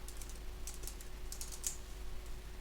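Quiet, sparse keystrokes come from a computer keyboard in a small burst of light clicks, with a steady low room hum underneath.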